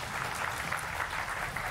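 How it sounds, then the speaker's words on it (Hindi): A studio audience applauds the guests of a televised news debate show with brief, steady, full-room clapping. "तो सारे मेहमानों के लिए जोरदार तालियां"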